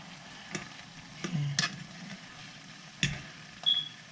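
Shrimp cooking in a pan for Samoan fa'alifu, a quiet steady sizzle with a few soft scraping and clicking stirs standing out at intervals.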